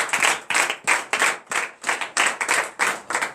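Rhythmic clapping in even beats, about three per second, crisp and close, at a morning church prayer service in Benin, with no talking.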